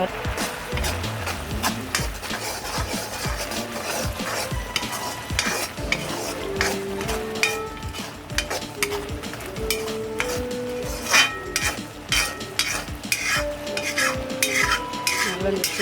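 Carrot halwa is stirred in a pan with ghee, giving a steady scraping, clattering stir with a soft sizzle throughout, fairly loud and continuous, with some background music.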